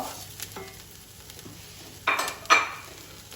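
Lentils are stirred in a pot over sweated vegetables, with a faint background sizzle broken by a few scraping and clinking strokes of a utensil against the pot, the loudest two close together.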